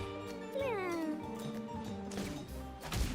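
A cat meows in a video game where cats are being killed, a drawn-out meow with a falling pitch rising over steady game background sounds and music.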